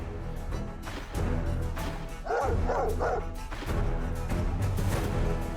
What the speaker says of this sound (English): Dogs. And dog catcher.